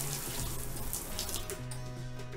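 A repaired shower tap is turned on after the mains water is restored, and water runs in a steady, fairly loud broadband rush with no talk over it.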